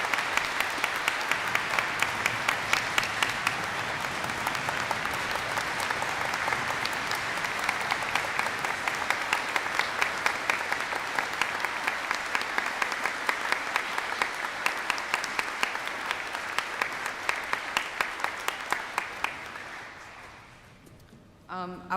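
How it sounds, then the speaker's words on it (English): Sustained applause from a commencement ceremony audience, a dense, even roar of many hands clapping for about twenty seconds before fading out, with a brief voice at the close. "please welcome me in a round of applause for Second Lieutenant Derek Vela"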